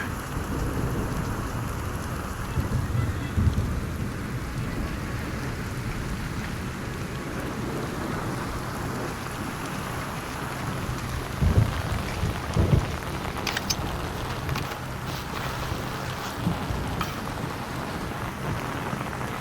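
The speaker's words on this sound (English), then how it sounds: "Man, it's really raining." Heavy rain pours steadily in Tom Clancy's Splinter Cell: Chaos Theory at the lighthouse mission, with low rumbles of thunder rolling in at intervals, with no voices.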